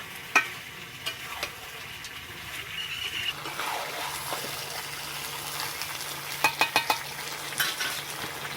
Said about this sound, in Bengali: তো আলু দিয়ে আরো কিছুক্ষণ কষে নেব।